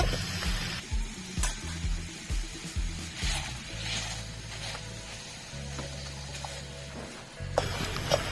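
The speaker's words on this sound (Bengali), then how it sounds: "তেলটা আমি সাত থেকে আট মিনিট নাড়াচাড়া করে নিচ্ছি" Apple chutney cooks in hot oil with a steady sizzle, broken by repeated rhythmic scraping and knocking strokes of a spoon stirring and mashing in the pan, heard up close with no talking.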